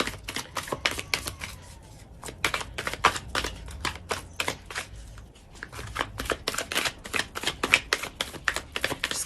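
A tarot deck is shuffled by hand in quick, crisp riffles and slaps, a dense run of sharp card clicks with a brief lull midway, close and clear with no talking.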